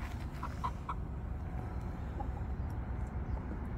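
Hens cluck softly inside a chicken coop on a hot evening, a few short clucks early on and then sparse, distant calls over a steady low rumble of background noise.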